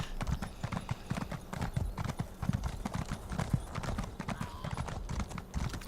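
Horse hooves galloping at full speed in the ESO Summerset video game, a steady rapid clip-clop of hoofbeats close up that runs throughout without pause.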